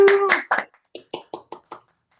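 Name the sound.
household clapping at home during an online graduation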